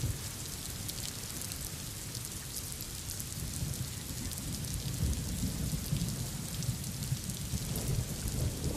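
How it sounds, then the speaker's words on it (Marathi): Heavy monsoon rain pours down steadily over Mumbai, a dense, continuous hiss of downpour with low rumbling beneath it, heard alone without any voices. "रात्रीपासून मुंबई शहरासह उपनगरात पाऊस पडतोय"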